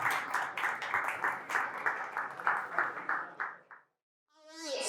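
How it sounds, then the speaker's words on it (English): A crowd applauds a player at a university coaches show, a pulsing, slightly buzzy burst of clapping that stops abruptly, followed by a moment of silence before a voice begins speaking. "Let's give her a round of applause."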